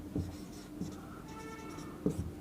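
Pen on paper while a maths solution is worked out, quiet scratchy strokes with a few soft taps as figures are jotted down, faint and close in a still room.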